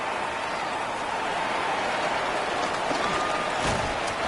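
Steady rain falls over an outdoor American football stadium during a game, making a continuous hiss with faint crowd noise underneath.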